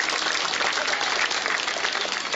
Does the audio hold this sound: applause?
yes